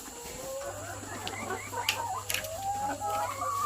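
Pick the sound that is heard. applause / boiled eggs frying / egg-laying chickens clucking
egg-laying chickens clucking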